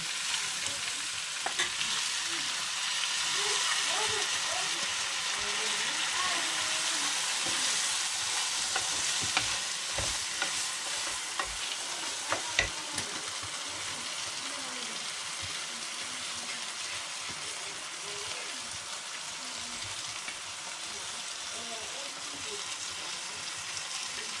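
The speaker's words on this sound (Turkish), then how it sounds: "Ciğeri karıştırayım yanmasın." Liver crackles and sizzles in a hot pan on a stove for a long stretch, with occasional scraping and clinks as it is stirred, faint voices in the background.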